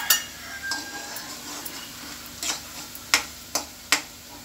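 Onions and tomato paste cooking in a pan: a steady low sizzle under sharp metallic clinks of a spoon against the pan, which come more often and louder toward the end, close by with no talk.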